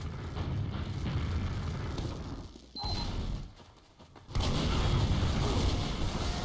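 Explosion in a first-person shooter match: a sustained, loud rumbling blast with a brief lull before another heavy boom surges back and rolls on through the end.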